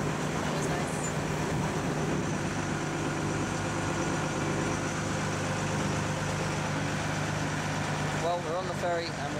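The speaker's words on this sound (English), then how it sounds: "we're on the ferry and we're heading to Clifton at the moment." Steady low engine drone of a river ferry heading down the river toward Clifton in Bristol, continuous and fairly loud throughout with rumbling machinery and wash noise, no pauses.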